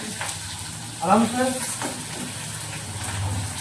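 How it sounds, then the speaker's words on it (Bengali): Onions with green chilies fry in hot oil, giving a steady close sizzle with stirring clatter, while someone talks over the cooking. "মাখিয়া পেঁয়াজটা লাল করে ভাজবো"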